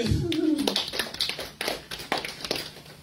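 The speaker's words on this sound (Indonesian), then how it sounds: "Tepuk tangan dong buat Tuhan." Indonesian church congregation claps for God during a sermon, a short burst of scattered, fairly close hand claps that quickly thins out, with a voice briefly heard at the start.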